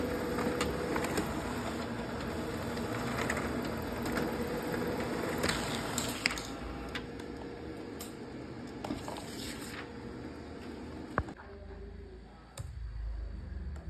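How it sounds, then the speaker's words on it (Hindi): A Brother 6200DW laser printer with a toner cartridge problem runs through a print job: a steady mechanical whir with scattered clicks and a sharp clack near the end, close and continuous. "तो बेसिकली प्रिंट कमांड दे दिया मैंने, ये कुछ प्रिंट कर रहे हैं।"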